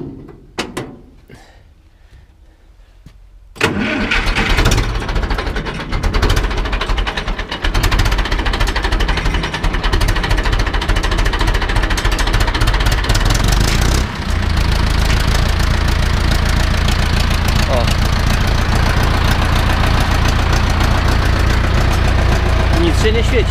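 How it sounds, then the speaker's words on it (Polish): An Ursus C-360 tractor with a cold engine cranks after a few quiet seconds and fires up. It settles into a loud, steady, knocking diesel idle that runs close by for the rest of the clip. "To palimy ciągnik."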